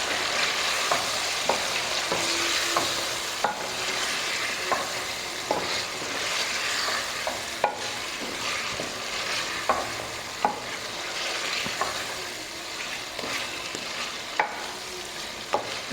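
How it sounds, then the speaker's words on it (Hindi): Mutton and potatoes fry with a steady sizzle in a pot for aloo gosht curry, while a spoon scrapes and knocks against the pot at regular intervals. "पहले इसको थोड़ा सा भून लूँगी"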